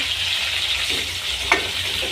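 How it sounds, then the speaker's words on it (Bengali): Chicken and sandwiches fry together in hot oil for an evening snack, giving a steady close-up sizzle and hiss with one short stirring clink partway through. "চিকেন এবং স্যান্ডউইচ একসঙ্গে ভাজা হচ্ছে"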